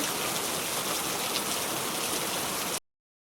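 Steady, dense night rainfall pours down as an even hiss, loud and unbroken, then cuts off abruptly.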